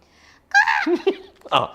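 A voice imitates a crow, giving a few short, harsh caws close up, with brief pauses between them.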